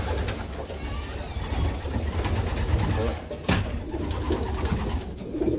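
Racing pigeons coo at feeding time in a loft, a steady layered murmur of soft calls close by, with a brief louder bump near the middle.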